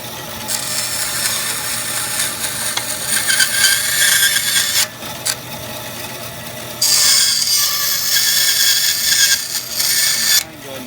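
A power tool grinding the corners off a wooden slingshot blank in a workshop: a harsh, continuous rasping that swells louder in the middle and again near the end, broken by brief pauses where the tool lifts off the wood.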